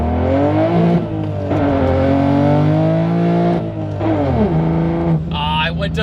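A 900HP Toyota Supra with a manual gearbox revs hard, its engine note rising and falling in a loud, throaty snarl that runs steadily throughout, with a brief dip and shift of pitch near the end.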